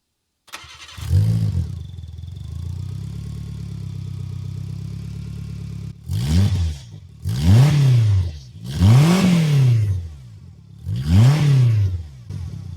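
A Subaru Sambar with an aftermarket muffler starts up, settles into a steady idle, then gives four short, loud revs close by.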